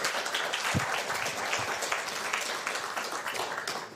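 An audience at an academic gathering applauds a speaker, a dense, steady patter of many hands clapping that holds at an even level throughout without fading.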